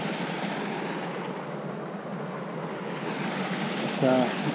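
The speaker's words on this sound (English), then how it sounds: "The aerator's starting to work." An aerator churns in the water of a frozen trout fishery, a steady broad rushing hiss that runs unbroken throughout, with a brief tonal whistle near the end.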